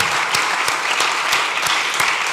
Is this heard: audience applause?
yes